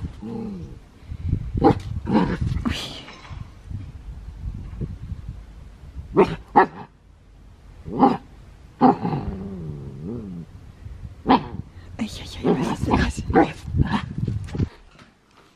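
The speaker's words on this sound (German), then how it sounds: "Das Ding da bellt er an." A dog barks and growls at an object indoors, with separate sharp barks spread across the clip and low rumbling growls between them, fairly close, with a brief exclamation from a person.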